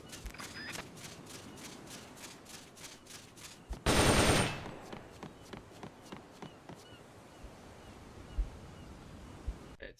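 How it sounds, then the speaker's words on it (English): An M16 assault rifle fires rapidly in Metal Gear Solid Peace Walker on the PSP, with a rhythmic string of sharp shots, one loud dense burst midway, then scattered single shots and light shuffling steps. "The M16 is a standard assault rifle,"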